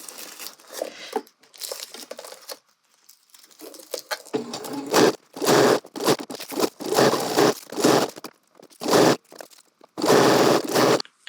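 A sewing machine stitches a straight side seam in fabric, its motor running in several close bursts of steady whirring separated by short pauses, with fabric rustling and crinkling between runs.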